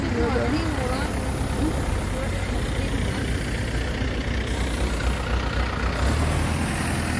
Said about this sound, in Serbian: Vratio se saobraćaj u normalu